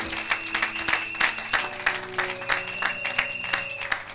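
A church congregation at a Sunday service claps along in a steady rhythmic beat, with sustained musical tones underneath and a roomy, moderately loud sound.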